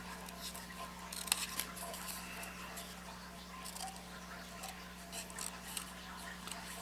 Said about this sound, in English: I'm also going to cut the flower